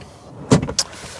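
Brief whir and clunk of a power seat motor adjusting inside a Hyundai Santa Fe hybrid, a short mechanical buzz with a small knock at the end, close and quiet in the cabin.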